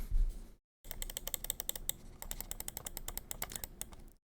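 The side buttons of a Logitech Pro X Superlight 2 Dex mouse click rapidly and repeatedly at close range, a dense run of crisp, fairly light clicks after a brief pause.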